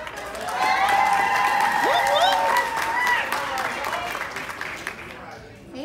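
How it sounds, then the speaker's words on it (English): Wedding reception guests applaud and cheer for the host's husband, a loud sustained crowd roar with whoops and voices over clapping that tapers off at the end. "Can I get a round of applause for my"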